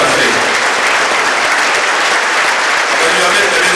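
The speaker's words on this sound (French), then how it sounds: "vous pouvez l'applaudir" An audience at a mayor's New Year address in Saint-Maur, Indre, breaks into loud, dense, sustained applause that fills the room evenly from start to finish.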